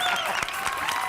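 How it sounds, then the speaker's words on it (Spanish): Studio audience applause on a Spanish-language television talk show, a brief burst of clapping that is fairly loud and close, lasting about a second. "¡Un aplauso"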